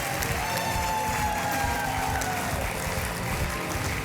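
Studio audience on a Hindi television quiz game show applauding and cheering loudly after a contestant quits with a prize, a dense continuous roar of clapping with a music tone running underneath.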